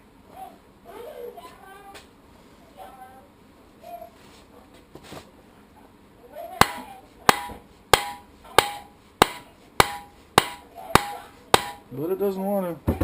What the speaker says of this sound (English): I guess we can get the biggest hammer.